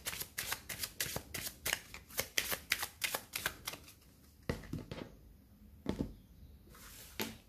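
Tarot cards being shuffled and cut during a weekly energy reading: a quick run of crisp riffling snaps for about four seconds, then a few separate softer taps and slides, close and clear with no talking.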